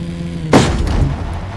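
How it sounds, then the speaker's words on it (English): A single loud, close gun blast from a weapon in the video game Defiance booms out and then rumbles away over about a second. "Those guns are gonna keep firing until we shut down the generator"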